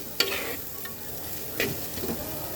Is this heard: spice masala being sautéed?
yes